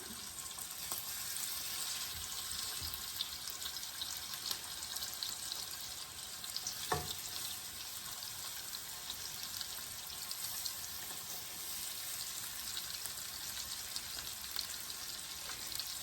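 Honey lime chicken taquitos fry in hot oil in a pan, giving a steady, bright, hissing sizzle throughout with a single brief clink partway through, close and continuous with no talking.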